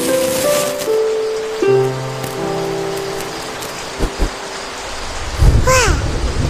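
Rain with a thunderstorm over a village during a power outage, steady rainfall beneath tonal sounds and thumps, ending in a loud, close burst of thunder.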